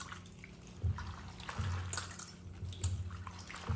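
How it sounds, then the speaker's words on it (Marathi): Fresh spinach being rinsed in water at home, with soft sloshing and dripping and a few faint splashes, quiet and close. "पालक 2-3 पाण्याने धुवायची।"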